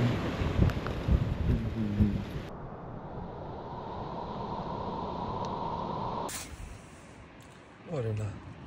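Wind gusting across an evening campsite, a steady rushing roar that buffets the microphone, drops to a softer hiss midway, then surges again near the end.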